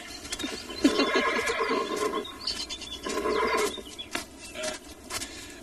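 A stallion neighs and whinnies loudly and close, two long bursts separated by a short gap, with a faint clip-clop of hooves beneath and no talk.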